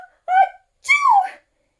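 A person imitates a sneeze in two quick, loud parts, an "ah" intake followed by a sharp "choo", close and clear with silence around it.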